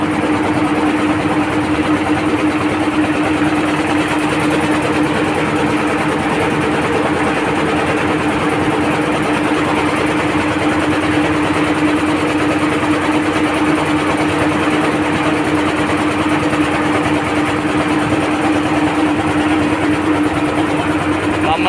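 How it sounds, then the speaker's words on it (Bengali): A motorboat engine drones steadily and loudly throughout on a river near Kolkata, a constant mechanical hum with no breaks. "আমাদের নৌকা আবার ঘাটের দিকে এগিয়ে চলেছে"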